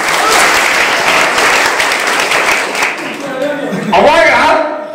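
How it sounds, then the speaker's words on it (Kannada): An audience at a Kannada political gathering on farming and bullock-pair support breaks into loud, dense applause, a sustained roar of many hands close and full, tapering near the end as a voice starts to rise over it. "ಜೋರಾಗಿ ಚಪ್ಪಾಳೆ ಬರ್ರಿ."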